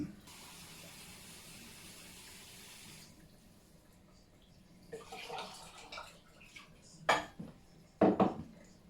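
Running water hisses steadily into a kettle for homebrew. After it stops, metal pots clank and clatter close by in a few sharp knocks.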